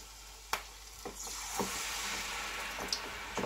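Stuffed jelly ear mushrooms frying in sunflower oil, a soft continuous sizzle that grows fuller as pieces drop in, with a few small clicks and taps of a utensil, close but quiet, no talking.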